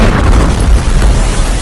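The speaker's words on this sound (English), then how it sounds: "A huge blast in the center of Ukraine's second largest city." A loud, deep, rumbling missile blast in the center of Ukraine's second largest city fills the whole moment, a heavy booming roar with broad noise and no distinct voices.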